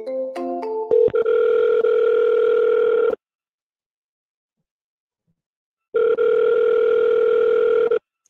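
Touch-tone dialing beeps at the start, then a steady telephone ringback tone on an outgoing call to a real estate agent, ringing twice with a long silent gap between, clear and alone with no talking.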